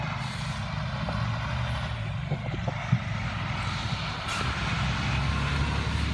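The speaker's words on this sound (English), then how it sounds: "that's a logging truck coming." A logging truck rumbles past on a rural road, its steady low engine drone filling the scene at moderate loudness, with faint brake hiss and no talking.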